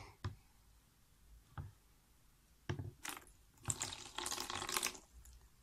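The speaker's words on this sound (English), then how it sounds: "Have some warm water in the cup, and I'm just going to go ahead and pour it in." Warm water poured from a cup into a bowl while mixing a slime kit, heard as a steady splashing trickle of a few seconds after some faint taps, fairly quiet and close.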